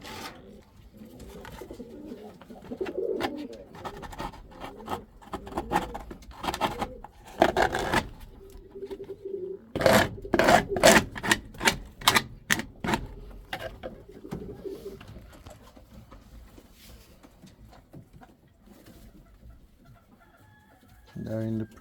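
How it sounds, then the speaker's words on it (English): Chicks chirp and peep in quick, close clusters while being fed, with soft clucking and cooing from the surrounding fowl and a brief low murmur of talk near the end. "That's chicks for you guys."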